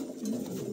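Pigeons at a sale coo softly and steadily through a short, continuous stretch with no talk over them.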